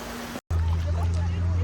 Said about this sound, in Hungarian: A tó pedig itt folyik el valamerre, valami folyó formájában. Ez magyarázza a hatalmas csobogást.